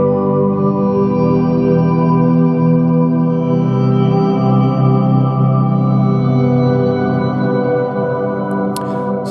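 Ambient guitar swells through effects pedals build into a dense, continuous wash of sustained tones, loud and steady for several seconds with no speech.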